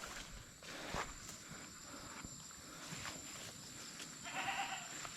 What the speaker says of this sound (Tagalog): Nagwawala na yung alaga kong kambing mga kasinag.